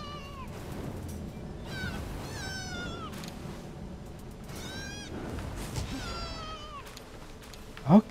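A cat in the video game Palworld meows repeatedly, several distinct rising and falling calls spaced across the scene over a low ambient background.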